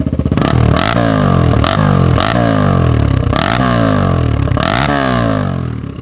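A 2003 Honda XR250 motorcycle with a freshly rebuilt engine, Wiseco piston and hot cam, revved up repeatedly in a steady series of sharp blips close by, loud and alone with no talk.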